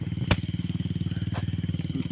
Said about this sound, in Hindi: बाइक की आवाज़ अवॉइड करना